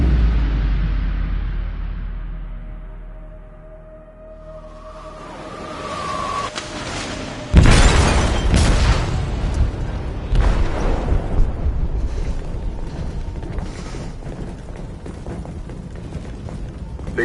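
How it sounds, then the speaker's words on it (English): A bomb goes off in a ship's hold during a video game, a sharp massive boom after a quieter build-up, then sustained roaring rumble and crashing debris that slowly fades. "They detonated an explosive in the hold."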